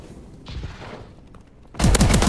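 An XMG firing in Call of Duty Advanced Warfare, quieter bursts of shots giving way to a loud, close, rapid volley at the end.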